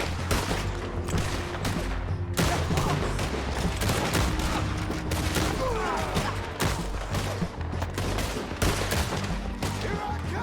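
Rapid volleys of gunshots crack and echo in a Red Dead Redemption 2 firefight, dense and loud throughout with bursts overlapping in quick succession.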